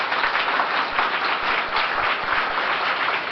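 A crowd applauds together at a memorial event for Bhagat Singh and Sukhdev, with dense continuous clapping that holds steady and loud from start to finish.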